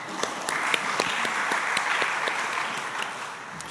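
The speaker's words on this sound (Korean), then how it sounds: "박수할까요?" Church congregation at a Wednesday prayer service clapping, several sharp individual claps standing out over a steady moderate wash of applause that fades toward the end.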